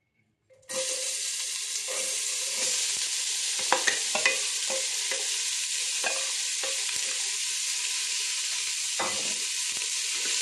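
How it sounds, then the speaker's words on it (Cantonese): Onions stir-frying in a pot with a little olive oil over low heat: a sudden sizzle starts and holds steady, with scraping and stirring knocks scattered throughout. "就首先咧就爆咗啲洋葱"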